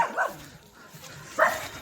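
A dog barks twice, short sharp yaps spaced more than a second apart, fairly close with quiet background between, near the Kaango river in Oroquieta City, Philippines.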